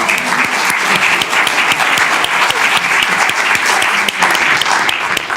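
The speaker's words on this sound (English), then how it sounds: "You can clap now." An audience at a city council meeting claps steadily and loudly, dense applause holding at an even level from start to finish.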